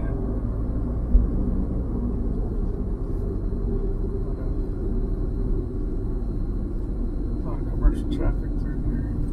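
A tuned car's engine accelerates hard with boost, a steady low rumble and drone from inside the cabin while driving, with someone talking over it.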